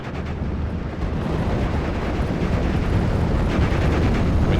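Artillery fire in the World War II strategy game Steel Division: Normandy 44 pounds on in a continuous rolling barrage, with heavy low booms blending into a loud, sustained rumble.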